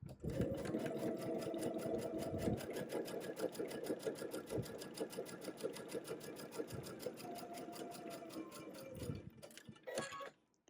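A sewing machine stitches quilt pieces together in a fast, even run of needle clicks and motor whir that pauses briefly, then slows and stops near the end.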